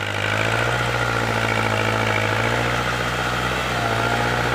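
An engine idles steadily up close, a low constant rumble with slight rhythmic pulsing and no voices.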